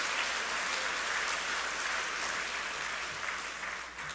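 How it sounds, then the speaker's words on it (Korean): A congregation at a New Year's Eve church service in Yongin, South Korea, claps in a sustained round of applause. The dense patter sounds fairly distant and soft and fades slightly toward the end. "박수 한번 치세요."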